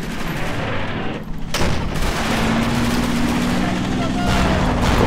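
Heavy gunfire from the Combat Mission game rattles on through the whole stretch, a dense, continuous barrage with a sharp jump in loudness partway through, and someone talks over the shooting.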